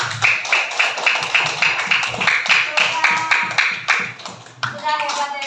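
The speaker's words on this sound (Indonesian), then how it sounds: "Tepuk tangan buat kita semua." Classroom students clapping together in a steady, fairly loud rhythm with some children's voices mixed in, slowing at the end to a few scattered claps and chatter.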